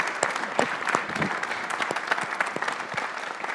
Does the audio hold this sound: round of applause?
yes